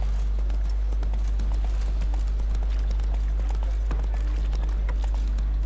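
Roach the horse trotting in The Witcher 3, a steady, loud clip-clop of hooves running throughout with no speech over it.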